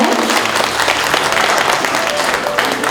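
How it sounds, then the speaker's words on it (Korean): Loud, dense applause from an audience at a library anniversary award ceremony, steady clapping filling the room without pause. "박수 고맙습니다"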